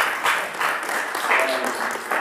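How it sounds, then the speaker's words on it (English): A congregation at a praise and worship service gives a short burst of applause, clapping in uneven swells with voices mixed in. "I almost feel like we should give them an applause."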